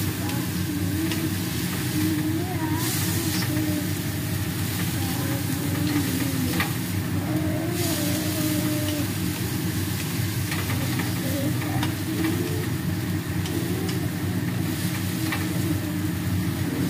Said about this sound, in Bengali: একটু সামান্য নাড়িয়ে চেড়ে নেব